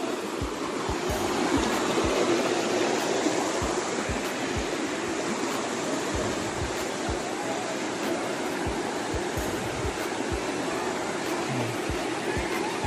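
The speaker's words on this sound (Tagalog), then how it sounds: "malalakas na agos" A strong current in a rocky countryside creek rushes over stones, a loud, constant, broadband roar close by that stays steady for the whole stretch without pause.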